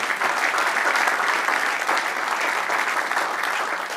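Steady, dense applause from a church congregation praising the Lord during a Bible study, many hands clapping together without a break, fairly loud and even throughout.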